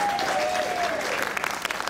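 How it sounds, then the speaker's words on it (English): Studio audience of the Better Connecticut show applauding: steady, dense clapping throughout, moderately close, with a faint tone fading under it near the start. "Better Connecticut, applaud."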